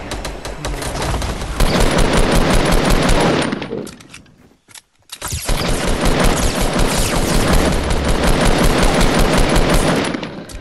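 Rapid automatic gunfire in the Fortnite battle royale game rattles loud and continuous in two long bursts, split by a short quiet gap.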